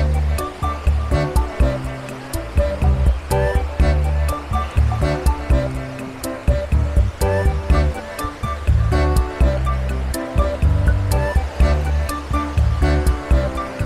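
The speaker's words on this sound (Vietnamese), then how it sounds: "Bãi biển thì cát rất là mịn màng, sóng biển rì rào" Sea waves on Phu Quoc beach, a fine-sand shore with clear water, wash in a steady, fairly loud rolling surf that continues without a break. There is no talk.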